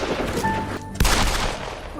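A single sharp gunshot cracks out, loud and close, against a low background rumble.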